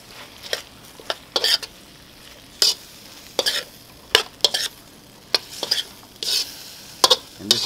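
A broccoli and chicken sausage stir fry is stirred in a hot pan, with a steady sizzle broken by repeated scraping strokes of a utensil at an uneven rhythm, close and clear, with no talk.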